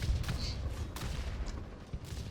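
Massive 128 mm tank gun fire in War Thunder, a few sharp booms and cracks over a rumbling low battlefield bed, with scattered distant gunfire through the short stretch.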